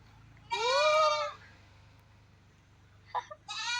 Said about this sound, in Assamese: ছাগলীটোৰ লগত খেলি আছে ভাইটি চাও ছাগলীটোক দেখুৱা একবাৰ